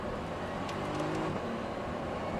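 A Porsche 911 Turbo accelerating on a circuit, its engine note a steady, fairly loud broadband roar that holds through the whole stretch with no talk over it.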